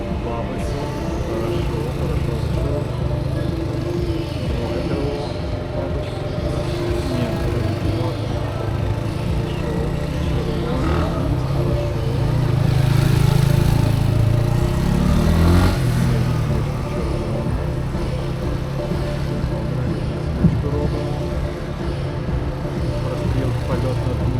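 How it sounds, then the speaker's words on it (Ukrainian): A mid-pitched Benelli TNT 25 motorcycle engine runs steadily throughout, swelling briefly louder midway, with talk over it. "Досить показує справді водіння мотоциклом"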